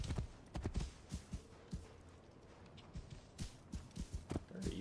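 Hooves of a horse in Assassin's Creed Origins clop in a steady walking rhythm, distinct thuds repeating close by over a quiet background, with no talking.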